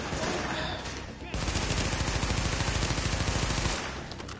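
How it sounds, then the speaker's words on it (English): Rapid automatic gunfire from The Division video game, set in New York City, firing continuously in a dense sustained burst after a short lull, loud and close, with a voice faintly present underneath. "We're gonna fucking fill them up with bullets"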